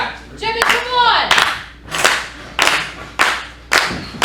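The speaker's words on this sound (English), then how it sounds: "Crowd starting to come alive here for Jimmy Hughes" Wrestling crowd at a live fight show clapping in rhythmic bursts, sharp hand claps rising every half second or so as the audience comes alive, with faint voices in the hall.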